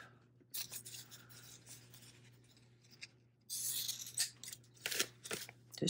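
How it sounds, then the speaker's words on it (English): Scissors snip excess thread from a paper tag, with a few quiet close cuts and rustles separated by pauses, then a louder burst of paper handling and snipping near the end. "Trim this excess off."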